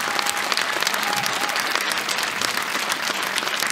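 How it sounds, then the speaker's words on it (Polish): A concert audience gives loud, sustained applause to a coal-mine brass band at its 75th-anniversary concert, with faint crowd voices mixed into the clapping. "Wielkie brawa!"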